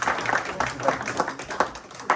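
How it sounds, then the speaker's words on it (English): An audience at a community performance event claps in a short, scattered burst, fairly faint and partly under a voice speaking. "Give them another round of applause."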